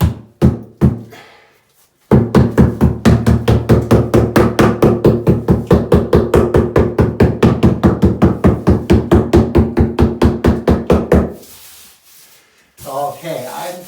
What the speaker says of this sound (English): where's my little hammer?